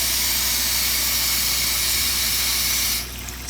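Tap water rushes into a pot in a steady, loud hiss that stops abruptly near the end, leaving a quieter room.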